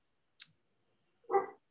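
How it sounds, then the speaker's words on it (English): A neighbor's dog gives a single short, faint bark in the distance, preceded by a tiny click, with near silence otherwise. "excuse the dog, that's my neighbor."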